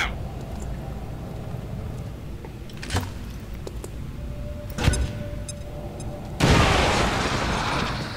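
Frag grenade exploding in the strategy game XCOM 2: War of the Chosen, a sudden loud blast with a broad roar near the end, after a couple of sharper thuds and clicks.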